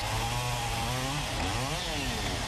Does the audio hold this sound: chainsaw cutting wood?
yes